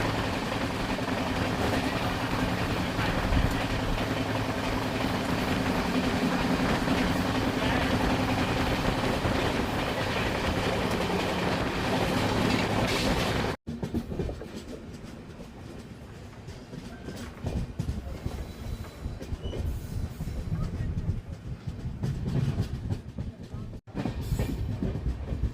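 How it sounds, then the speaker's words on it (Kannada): A train on the Miraj–Belagavi line rolls straight through Chinchali railway station without stopping. The steady rumble of the carriages is fairly quiet and drops lower partway through. "ನಮ್ಮ ಟ್ರೈನ್ ಈಗ ಚಿಂಚಲಿ ರೈಲ್ವೆ ಸ್ಟೇಷನ್ನ ಸ್ಕಿಪ್ ಮಾಡ್ತೀವಿ"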